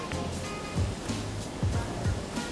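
A steady, rushing water curtain runs in a furniture lacquer spray booth, where lacquer particles are drawn into the water for cleaning; a continuous surf-like wash fills the space, with faint low thumps from the workshop.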